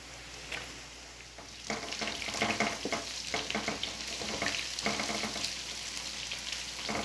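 Onions frying in a pan for Kabuli pulao, a steady crackling sizzle with stirring scrapes that grows louder partway through, heard close with no talking.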